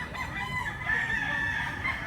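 A 10-month-old fighting cock crows once at a gamecock sale in Cebu, a drawn-out call at moderate distance over low background noise.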